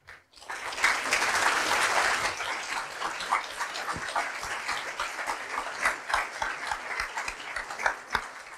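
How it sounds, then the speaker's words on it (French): Audience applause at a French eloquence contest, a dense spread of clapping that swells early, then thins into scattered, distinct claps toward the end, with no voices over it. "Sous vos applaudissements."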